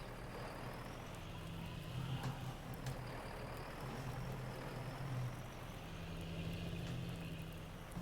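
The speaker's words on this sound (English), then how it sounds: "Engine on." A truck engine in Farming Simulator 19 drones steadily close by, its low rumble rising and falling slightly, with a faint whine above and occasional clicks.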